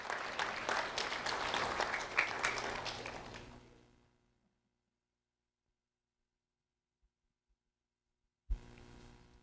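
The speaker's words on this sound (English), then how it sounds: "a round of applause for Candy Tomas Hernandez" Applause from an audience for Candy Tomas Hernandez, a 5th grade student at Orange River Elementary School, at a Do the Right Thing recognition event; steady clapping for about four seconds fades to silence, then a brief burst resumes near the end.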